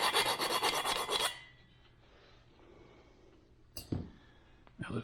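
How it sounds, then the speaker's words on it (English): Half-round file rasping burrs off a metal insert on a John Deere Model E 3HP engine, a loud steady filing burst at the start, then quiet with a couple of brief scraping strokes later. "just take a half-round file, clean up any burrs that may have happened when I drove it in"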